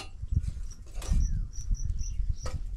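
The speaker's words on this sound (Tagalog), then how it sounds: "Huni lang ng kuliglig." Faint, high crickets chirp in short repeated pulses over a quiet outdoor background with soft rustling.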